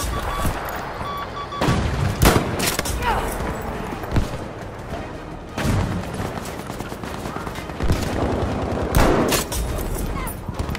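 Sniper rifle gunfire in the Battlefield video game on PS4, with sharp loud shots repeating at irregular intervals over a dense backdrop of battle noise and distant firing, joined by some talk.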